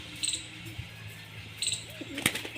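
Pigeons in a loft of racer, Madras and other breeds give soft low coos among short chirps and rustles, with a few light clinks of metal nearby.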